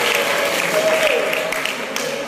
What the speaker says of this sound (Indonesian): Tepuk tangan dulu untuk calon alumni Al-Amin.